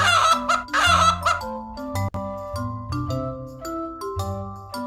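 Two short bursts of chicken clucking open the sound, then cheerful children's music carries on alone.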